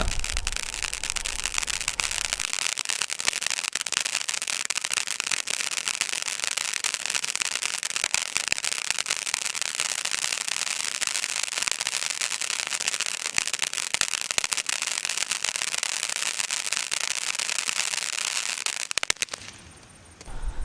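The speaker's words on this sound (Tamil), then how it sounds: "இப்போ நீங்கள் பார்க்குற டெஸ்டிங் வந்து Sanghamitra fire ஒர்க்ஸுடைய Thunder coconut கிராக்லிங்குடைய testing தான்" Thunder Coconut crackling firecracker from Sangamithra Fireworks set off in a test, a loud, dense, continuous crackle of rapid pops lasting about twenty seconds before it sputters out, with no voices.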